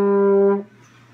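A single sustained French horn note, D, is held steadily and close for about half a second before it stops abruptly and leaves a quiet room.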